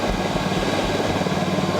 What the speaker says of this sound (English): waiting to take off in our Eurostar helicopter